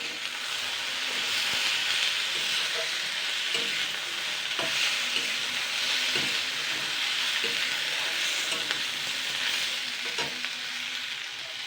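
Chopped tomato and onion greens stir-fried in a pan with cauliflower stems give a continuous close sizzle and hiss, with the scrape and tap of a spatula stirring at irregular intervals.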